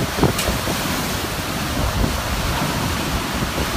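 Hurricane Harvey's winds in Texas, gusting around 120 mph, roar hard and continuously against the microphone, with rough buffeting gusts and no voices.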